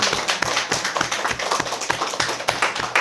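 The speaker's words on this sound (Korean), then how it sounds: "다 함께 그렇게 손뼉을 치시고 박수로서 축복해 주십시오." A church congregation claps together after a vote electing deacons, a close, dense patter of many hands keeping a fairly regular rhythm throughout, with no talk.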